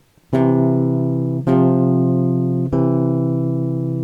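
Three plucked bass guitar notes, a major third at C then a perfect fourth, each struck firmly and left ringing, evenly spaced and close, with a deep sustained tone and no talking.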